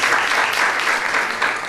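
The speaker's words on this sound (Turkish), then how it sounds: "Alkışlayanlara teşekkür ediyorum." An audience claps at a memorial program honoring Aliya Izzetbegović, producing sustained, full applause from many people, loud and even with slight swells, with no voices over it.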